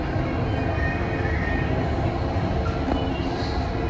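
Steady, dense rumble and rushing noise of a moving Delhi Metro train carriage, continuous and loud throughout, with faint hints of muffled voices beneath.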